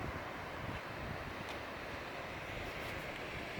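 Steady wind gusts across a sunny beach at Henderson Beach State Park, a broad continuous rush of wind noise blended with distant surf, with no talking.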